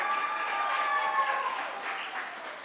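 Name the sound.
congregation applause for Gabriel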